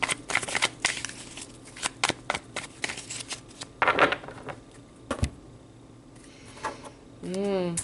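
Tarot cards are shuffled by hand in a series of quick riffling bursts and soft taps, close and fairly quiet, with a person talking briefly near the end.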